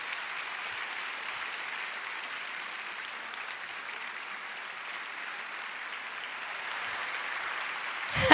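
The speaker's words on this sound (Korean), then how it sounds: "강사님 나오실 때 심찬 박수로 환영하며 맞이하겠습니다." Sustained audience applause welcoming a speaker at an evening prayer gathering, a dense, even wash of clapping throughout that swells slightly at the very end.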